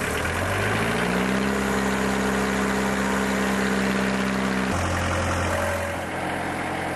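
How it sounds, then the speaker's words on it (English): Petrol or diesel-driven air compressor running steadily at a loud, constant drone, its engine note dropping to a lower pitch near the end. "A petrol or diesel-driven compressor delivers the power."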